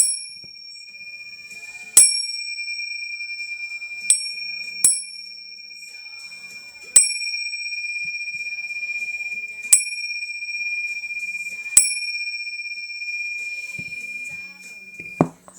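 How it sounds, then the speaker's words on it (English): Several sharp bell dings ring out at irregular intervals, each striking bright and loud before a sustained high ringing tone, with a clatter at the end. "I'm gonna cling some bells real fast."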